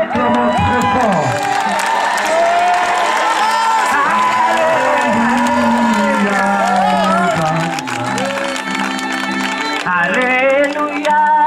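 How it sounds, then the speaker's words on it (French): A church congregation at an evening healing mission in Côte d'Ivoire cheers and acclaims Jesus, a loud sustained roar of shouting, whooping and applause from a large crowd, with a brief dip before swelling again. "Est-ce qu'on peut acclamer Jésus très fort?"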